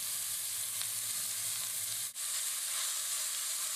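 Minced lamb and beef fry in a pan with a steady, loud sizzle throughout, interrupted by a brief stir.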